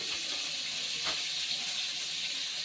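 Pieces of amra (hog plum) fry in hot oil with a steady, close sizzle and occasional soft stirring scrapes, with no talk over it.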